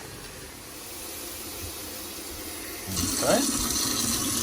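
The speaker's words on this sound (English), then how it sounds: "let's start running some water here so that we're ready" Tap water running to fill a LARQ water pitcher, a quiet faucet hiss that swells into a louder splashing stream as the pitcher fills, with a brief spoken word.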